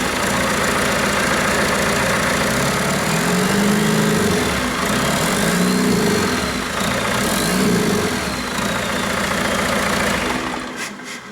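Ford Expedition fitted with a 4BT diesel engine, loud and close, its heavy low rumble rising and falling through several throttle revs before dropping off at the end.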